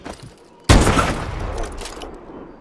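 A sudden loud gunfire burst in a Call of Duty: Advanced Warfare match, a sharp booming volley that then rolls off into a decaying rumble and echo.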